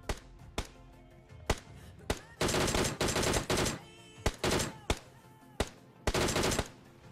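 Bursts of automatic gunfire in PUBG Mobile, several short volleys of rapid shots separated by single sharp cracks, loud and close, with a few faint voices underneath.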